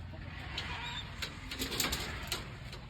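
Racing pigeons in a loft softly cooing and shuffling, with low murmuring coos and a few brief wing flutters or rustles, fairly close over a constant faint background hum.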